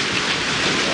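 Heavy rain and hail pouring down during a lightning-filled thunderstorm, a loud, dense, continuous hiss and patter with no pauses.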